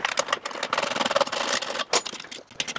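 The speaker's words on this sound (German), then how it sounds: "jetzt montieren wir einfach mal den alten Auspuff dran" Metal parts scrape and clunk as an old exhaust is fitted onto a car, with short rasping and rubbing bursts broken by brief pauses, close to the listener.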